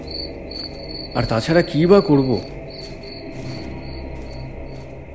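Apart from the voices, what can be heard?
crickets chirping at night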